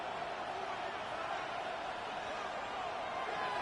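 Football stadium crowd roaring on a third-down play, a broad, steady wall of distant cheering that stays constant throughout, with no clear voice over it.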